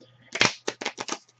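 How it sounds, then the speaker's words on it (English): Cards from a board-game deck are shuffled by hand in a quick series of close, papery riffling bursts, five or six in about a second. "So I would then shuffle it back into the deck."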